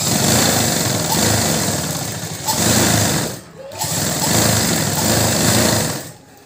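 A sewing machine stitches a lined chudidar sleeve in long, steady runs of motor whir, pausing briefly twice and then resuming.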